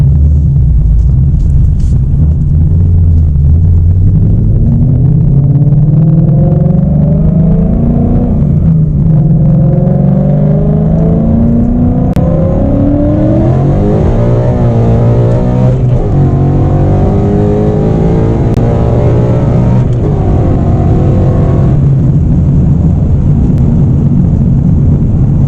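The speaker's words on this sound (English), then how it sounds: "So here's gonna be a pull on the 150 shot." A 2018 Ford Mustang GT on a 150 shot of nitrous, making a loud, close full-throttle pull with the engine note rising steadily through the gears amid wind noise, and no voices.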